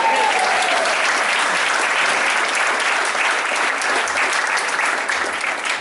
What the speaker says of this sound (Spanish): Démosle palmas al Señor, hermano.